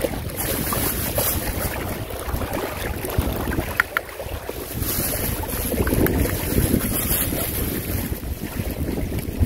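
Strong wind roars outdoors at a fishing spot, buffeting the microphone in a loud, continuous rush that swells and dips slightly, with no talk.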